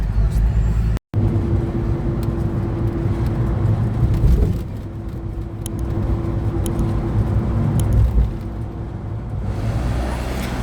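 Inside a moving minibus on a road: a constant low engine drone and road rumble fill the cabin throughout, with a steady hum and one brief dropout.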